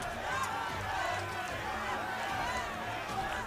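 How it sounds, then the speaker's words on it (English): A packed stadium crowd stands and roars in support of the United States at a USA versus Russia match, a continuous dense wall of cheering and babble that stays loud throughout. "And they're cheering for the United States."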